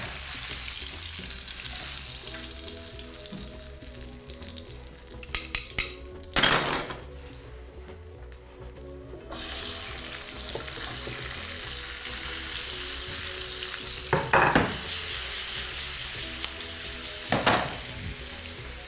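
Rolled pork frying in a pan gives a steady, moderately loud sizzle, with a few sharp utensil clatters and stirring bursts scattered through it.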